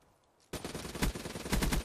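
Rapid automatic fire from the ICR assault rifle in Black Ops 3 breaks a near silence and continues as a loud, steady stream of shots for over a second.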